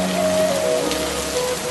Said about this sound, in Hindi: बारिश तो रुक ही नहीं रही है।